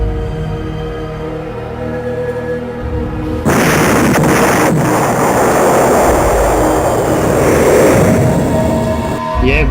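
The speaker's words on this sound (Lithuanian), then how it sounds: "Pasislėpę laukite sprogimo." An explosion sound effect: a low hum gives way to a sudden, loud broadband blast a third of the way in, followed by a sustained, heavy rumbling roar that fills the rest.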